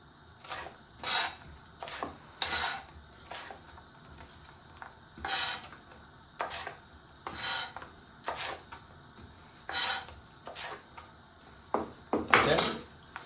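A knife chops through mangetout on a cutting board in a home kitchen, giving about a dozen crisp, fairly close cuts at a steady, slightly uneven pace, with no talking.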